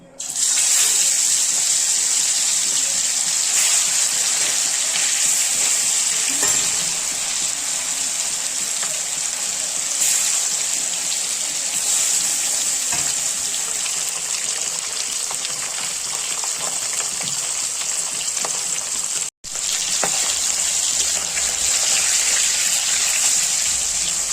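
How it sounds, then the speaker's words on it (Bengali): Marinated katla fish fries in a pan, giving a steady, loud sizzling hiss that runs almost unbroken, with only a brief cut near the end. "এখন দিয়ে দিব মাছটা মেখে রেখেছি, এটা ফ্রাই করে নেব।"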